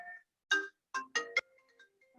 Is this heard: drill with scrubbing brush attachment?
no